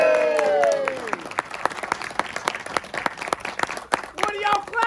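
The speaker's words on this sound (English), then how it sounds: "What are y'all clapping for?" An audience at a cowboy show in Tombstone breaks into applause, a dense patter of many hands that starts under a shouting voice and fades toward scattered claps before someone speaks again.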